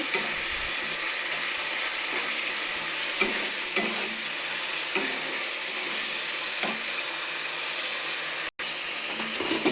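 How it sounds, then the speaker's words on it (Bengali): Spice paste with salt fries in a pan for a pointed gourd curry, giving a steady close sizzle with occasional scraping stirs, and no talk. "একটু লবণ দিয়ে দেবো। মশলাটাকে সুন্দর করে ভেজে নেব।"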